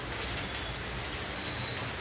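Steady rain falls in front of a house, an even, dense hiss of drops on surfaces with no pauses and no voices.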